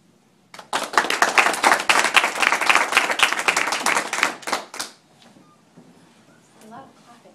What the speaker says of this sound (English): A lot of clapping